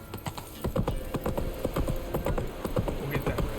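Roach the horse galloping in The Witcher 3, hooves clip-clopping in a fast, continuous rhythm, close and fairly loud over a low background hum.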